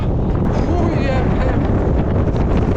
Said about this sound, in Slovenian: Toliko piha, da tudi kape ne moram nositi.